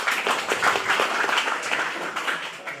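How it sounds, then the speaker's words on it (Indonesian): Applause from an audience at an agricultural regulation briefing, a moderate room-filling patter of many hands clapping for about three seconds, tapering slightly toward the end. "Tepuk tangan buat beliau."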